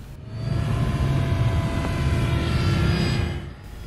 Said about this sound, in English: This is one of my first attempts to try landing this plane.